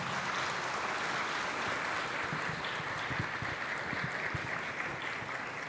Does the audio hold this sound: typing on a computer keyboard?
no